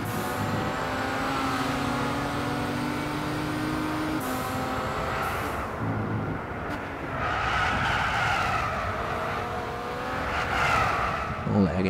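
A Pagani Huayra with turbocharged engine in Gran Turismo 6 running at full throttle on a back straight, a steady loud engine drone with tire skids and shifts, while someone talks over it throughout.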